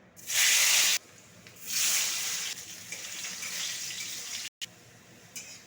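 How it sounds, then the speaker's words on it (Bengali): Potatoes coated with salt and turmeric hit hot mustard oil with loud bursts of sizzling hiss that surge, ease and surge again, close and without talk. "দিয়ে দেবো সর্ষের তেল দেখুন তেলটা গরম হয়ে গেছে এরপরে নুন হলুদ মাখিয়ে রাখা আলুটাকে প্রথমে ভেজে নেব"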